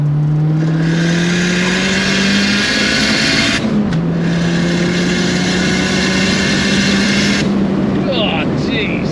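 Turbocharged 300+ bhp Ford Fiesta ST170 engine running close by, with a droning tone that rises and falls through revs, plus a hissing rush in two long stretches, continuous and loud throughout.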